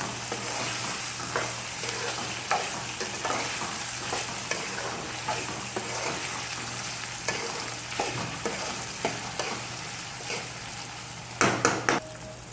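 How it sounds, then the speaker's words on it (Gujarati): Onion and chopped tomato sauté in a pan for a masala dosa filling, a steady close sizzle under repeated scraping stirs of a spoon, with a few louder clanks of utensil on pan near the end, no talk. "હવે ડુંગળી આપણી સતરાઈ ગઈ છે એટલે ચોપ કરેલું ટમેટું નાખી દઈએ. હવે ટમેટાને વ્યવસ્થિત સાતરવા દઈએ."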